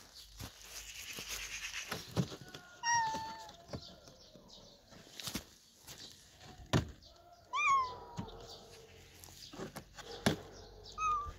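Female cat meowing several times in short, separate calls spread over several seconds, fairly close and moderately loud, with thumps and small handling noises between them.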